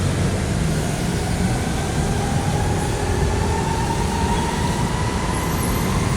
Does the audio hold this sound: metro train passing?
yes